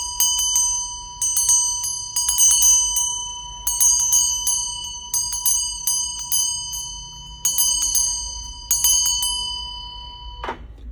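Handheld metal hand bell with a built-in handle, shaken in a series of short bursts. Each burst gives bright, ringing clangs with a long shimmering sustain, repeated about seven times, close and loud, ending with a soft thunk.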